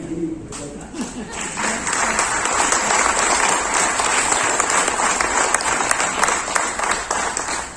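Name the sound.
audience clapping at a seminar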